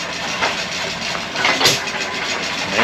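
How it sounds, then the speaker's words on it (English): An old farm pump engine in a vintage machinery collection chugs close by, an uneven rough running noise with a few stronger puffs, loud and continuous without talk. "There's that farm pump engine again."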